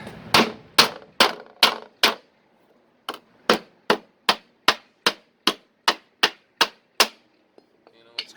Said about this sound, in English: start by hand here, and then I'll just take the hammer. It's starting to bend now.